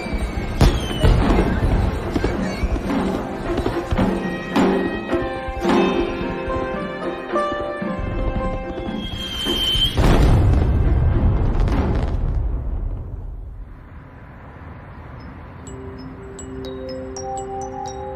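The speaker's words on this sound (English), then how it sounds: "fireworks." Fireworks burst over New Delhi during Diwali, a run of booms and crackles mixed with ringing, sustained musical tones; the bangs crowd the first ten seconds, then thin out into a softer, hanging tail.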